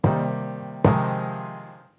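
A Korg Minilogue synthesizer sequenced by a Novation Circuit Tracks plays two bright plucked notes, the second struck under a second later and decaying slowly over more than a second, loud and alone.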